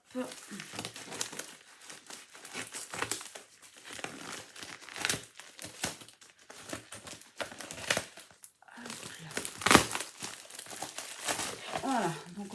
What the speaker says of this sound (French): il y a pas mal de papier bulle